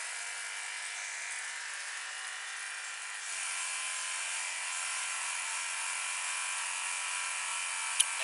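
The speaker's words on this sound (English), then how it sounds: "we're just going to bring the pump on." A small pump on a hydrogen generator cell drawing about 16 to 18 amps runs with a continuous, even electric whir that grows slightly louder partway through, ending with a single click.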